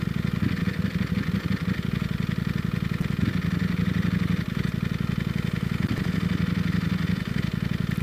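A Ducati Panigale V4 Speciale sport motorcycle idles steadily up close, its engine giving a continuous, rapid low burble at a constant loud level with no speech.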